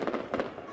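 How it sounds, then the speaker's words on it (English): Fireworks at a Christmas tree lighting ceremony: two quick bursts of crackling bangs, moderately distant, set against crowd noise. "Once the lights came on, there was a fireworks show to end the ceremony."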